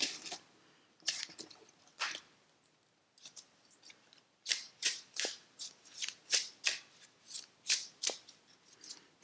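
A deck of tarot cards shuffled by hand up close, with crisp riffling bursts, a brief pause, then a quick rhythmic run of snappy card flicks.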